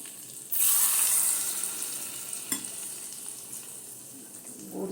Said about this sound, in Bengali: কড়াতে গরম তেলটা করে নিয়ে এসছি, ওইটা দেবো